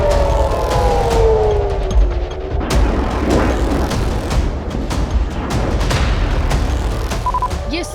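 Sirens wail in slow rising and falling tones at night during missile attacks in the Israel–Iran war, heard amid a noisy background of clattering bangs and rumble.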